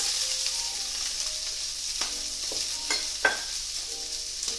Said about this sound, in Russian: Мы это все еще раз перемешиваем.